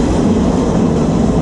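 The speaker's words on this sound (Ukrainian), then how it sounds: "ні нашим, ні малючка Маркусика, ми вирішили сісти на потяг і доїхати до Бангкоку." An overnight electric passenger train rolls toward Bangkok, a loud steady rumble and rattle of the carriage filling the short stretch with no voices.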